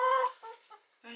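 Chickens cluck in a short series of a few close, clear clucks with brief gaps between them, with no talking.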